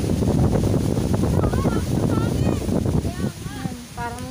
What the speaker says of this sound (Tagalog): Lakas ng hangin dito sa amin.